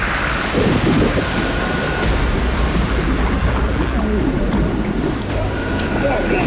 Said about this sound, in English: There's some really nasty waves coming in.